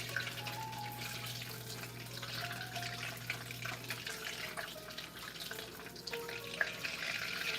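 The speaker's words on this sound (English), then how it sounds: "now it's like really starting to bubble for the butter to making the brown butter" Steady bubbling and faint crackle of butter browning in a pan, continuous throughout with a low hum underneath and occasional soft pops.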